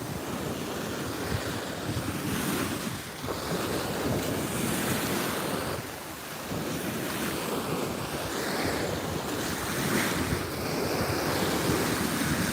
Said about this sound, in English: listen to the sound of the waves breaking on the shore